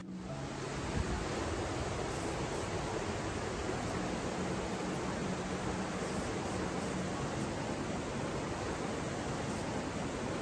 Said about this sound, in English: The sound of water is so soothing